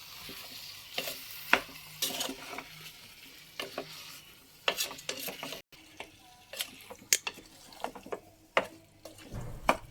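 Bitter gourd seasoned with salt sizzles quietly in a pan over a flame, broken up by scattered scraping and clattering strokes of a stirring utensil at irregular intervals, with no voices present.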